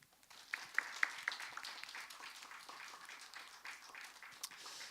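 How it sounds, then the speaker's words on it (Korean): Church congregation applauding during a Korean worship service, soft scattered clapping heard from a distance with a few sharper claps standing out early on. "우리 박수로."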